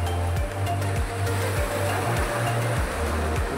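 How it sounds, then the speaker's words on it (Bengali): Sea waves break on Bakkhali beach in a loud, continuous roar of surf with a rushing wash, heard close up and without any talking. "কি ঢেউ দিচ্ছে দেখেন জাস্ট একবার"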